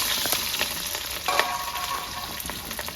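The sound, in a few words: frying chopped onion with whole spices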